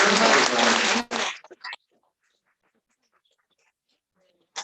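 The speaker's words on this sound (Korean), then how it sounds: "우리 일단 큰 박수로 좀 감사의 표시를 해주시겠습니다." Audience applause after a talk at an academic colloquium on healthy cities: a short, full burst of clapping that breaks off within about two seconds, followed by near silence and one faint brief sound at the end.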